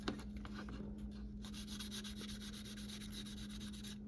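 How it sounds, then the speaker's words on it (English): Steady, quiet rubbing of fine 1000-grit sanding pads over a plastic Tamiya Honda NSX GT500 model car body in a crosshatch pattern, a soft continuous scratchy hiss with no talk. "I'll start off with a 1000 grit normally, and I'll do it in the crosshatch"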